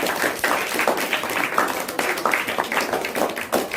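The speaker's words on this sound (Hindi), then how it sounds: "आयशा के लिए एक बड़ा जोरदार तालियां" A classroom audience applauds the winner of a school quiz game modelled on a TV quiz show: steady, dense clapping from many hands, fairly close and even throughout, with no pauses.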